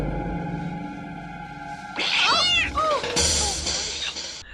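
A cat yowls in a movie cat-scare moment, a sharp rising meow followed by drawn-out wavering caterwauls over a steady background hum, fairly close and loud.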